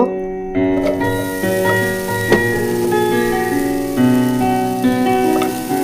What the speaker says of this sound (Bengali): এই আপেল এবং বিটরুটটাকে আমরা একটা প্যানে সিদ্ধ করতে বসিয়ে দেব